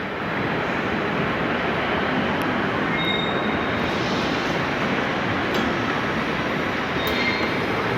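A train rumbles past overhead in the large Berlin Hauptbahnhof station, a loud, steady, broadband roar of rolling wagons lasting throughout with faint high squeals, no voices.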